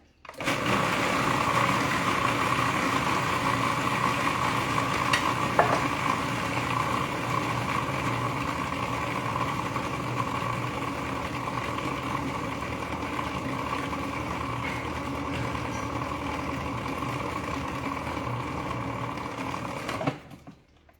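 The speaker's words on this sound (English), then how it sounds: "Excuse me while I blend." A food processor runs continuously for about twenty seconds, blending fresh onion into a raw vegan sauce, a loud steady motor whine with a slight rattle that starts abruptly and cuts off at the end.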